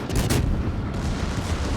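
Torpedoes launching in a naval warfare video game, a deep muffled thump followed by a rumbling wash that trails off over a couple of seconds.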